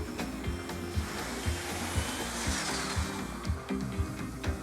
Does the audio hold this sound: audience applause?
no